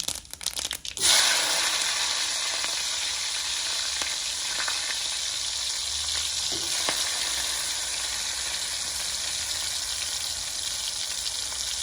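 Mustard seeds and onions fry in hot oil, giving a dense, steady, close sizzle. It bursts in sharply after a brief clatter at the start and stays loud and even throughout, with no voices.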